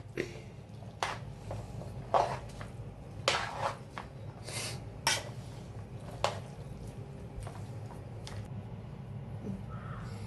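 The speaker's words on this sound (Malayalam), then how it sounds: "കപ്പ മഞ്ഞപ്പൊടിയും ഉപ്പും ഇട്ട് വേവിച്ചതിനകത്തോട്ട് നമ്മളത് തട്ടി കൊടുക്കും ഒന്ന് ഇളക്കി കൊടുക്കുക" A spoon mixes a beef mixture into tapioca that was boiled with turmeric and salt in a pot. Faint scrapes and soft taps recur irregularly against a low background hum.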